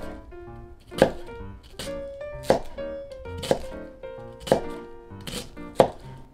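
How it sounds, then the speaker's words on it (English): A knife chops slits into an onion on a cutting board while prepping Japanese hamburger steak, about six firm, evenly spaced thunks over soft background music. "We'll begin by chopping the onion."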